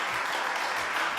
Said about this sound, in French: On applaudit très très fort Kamel.